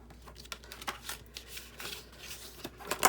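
Sheet paper folded by hand into a homemade envelope, a string of close, soft crinkles and sharp creasing swipes in quick irregular bursts with no talk.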